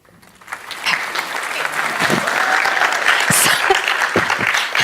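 Conference attendees in a university lecture hall break into applause that swells within the first second and holds as a dense, sustained crowd clapping, with some voices mixed in.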